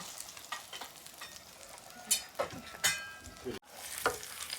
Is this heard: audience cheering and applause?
no